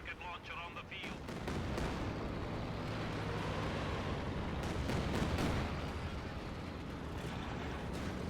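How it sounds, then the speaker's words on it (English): Katyusha rocket artillery fires in a Company of Heroes 2 battle, a dense, continuous roar of launches and explosions under a game soundtrack, with a voice briefly heard at the start. "Double Katyusha, by the way."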